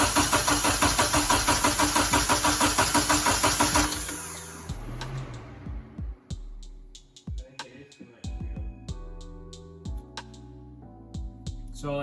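A Nissan 240SX engine, with two cylinders' injectors unplugged, cranks with a fast rhythmic churn for about four seconds without catching, then falls quiet except for scattered clicks and clunks.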